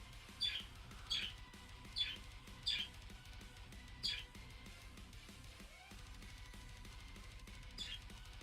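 Short bird chirps repeat at irregular intervals over a steady low background hum, fairly faint and distant.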